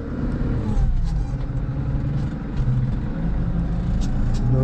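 A truck engine pulling forward after an upshift, a steady loud low rumble with a slight rise in pitch as it builds speed, heard from inside the cab with constant road and engine noise and no talking.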